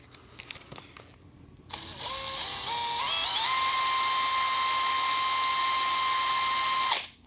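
A Star-M bolt countersink bit spinning up in a drill gives a steady high whine with rising pitch, then holds a loud, even tone for about five seconds before it stops abruptly.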